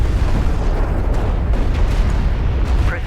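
Missile explosions in the real-time strategy game DoK, a dense, continuous barrage of booming blasts rumbling steadily and loudly throughout, with no one speaking.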